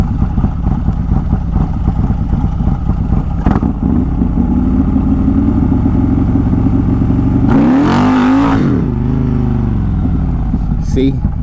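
A built Harley-Davidson CVO motorcycle launching at a drag strip, its engine droning loudly under talk, then rising in a sharp revving surge before easing back.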